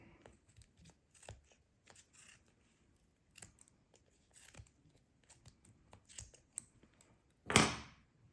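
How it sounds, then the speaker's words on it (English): Scissors snip yarn wound on a pom-pom maker, a series of quiet, close clicks and snips spaced irregularly, ending with one louder, longer rasping cut. No one speaks. "Turn it around, you can cut this bit that passed over and cut the next bit"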